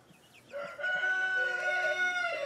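A young rooster in a backyard grow-out flock gives a single loud, close crow, a long drawn-out call with a strong tone, alone and without talk.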